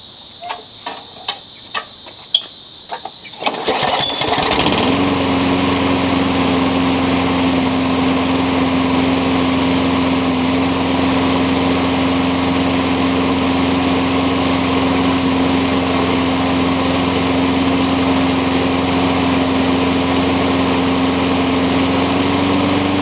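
A salvaged small lawn mower engine starts after a few pulls and clicks, then runs continuously at high speed with a steady, buzzing high-pitched drone, loud and close, with no talking.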